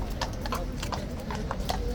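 Hooves of a large, powerful Life Guard cavalry horse clip-clop in a steady, brisk rhythm on a hard surface, close and fairly loud over a constant background rumble.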